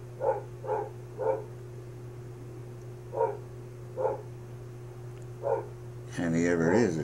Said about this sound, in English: All he's doing is barking.